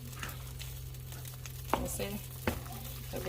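Macaroni and cheese stirred slowly in a pot on a stove over low heat, with soft scraping and quiet bubbling under a steady background hum and a couple of sharper utensil knocks.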